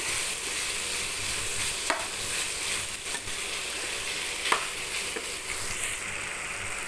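Chicken pieces and potatoes sauté in a pan with a soft, continuous sizzle and a few faint utensil taps, close and fairly quiet.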